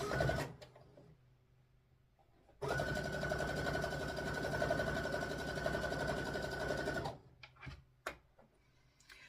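A sewing machine stitches binding onto a quilted Christmas table runner in one continuous run of about four seconds, a steady close whir with rapid needle ticking, framed by quiet handling noises before and after.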